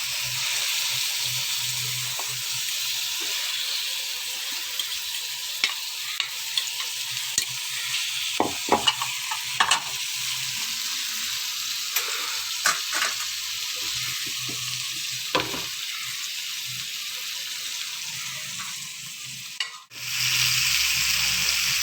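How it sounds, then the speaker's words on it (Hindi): Chicken coated in masala frying in a pan on low heat for homemade shawarma, a steady close sizzle throughout with occasional scraping and stirring clicks and a brief dip near the end. "इनको हल्की आंच पे आपने कुक करना है"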